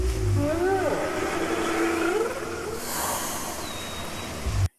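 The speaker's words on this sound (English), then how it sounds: "We get to hear the songs of the whales." Whale song: long sweeping tonal calls that rise and fall, loud and continuous over a deep rumbling underwater background, with a faint high whistle later.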